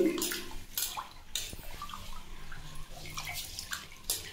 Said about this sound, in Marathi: मी इथे बाथरूममध्ये धुतली नागली